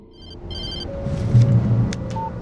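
A telephone rings with short repeated electronic chirps inside Alan Wake Remastered, fairly clear above a low rumbling game ambience, followed by a brief tonal sound.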